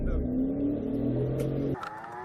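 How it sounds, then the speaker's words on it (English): A BMW 528i speeding away in a police chase, its engine droning steadily upward in pitch before cutting off sharply into quieter road noise. "the Beamer's taking off"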